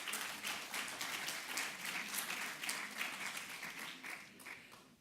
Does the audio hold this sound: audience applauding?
yes